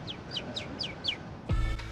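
A person imitates a bird call with five quick, high, evenly spaced chirps, followed by a sudden louder burst of noise at the end.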